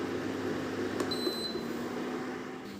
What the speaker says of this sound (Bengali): এবার আমি ওভেনটা বন্ধ করে দিচ্ছি।